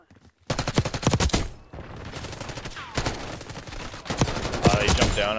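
Rapid gunfire from many players in the Black Ops 6 multiplayer video game, with dense bursts of overlapping shots loud and close, a short lull, then more volleys.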